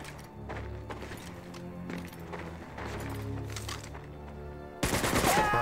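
Gunfire in Medal of Honor: Vanguard, a dense rattle of shots over a low rumble, ending in a louder, sharper burst.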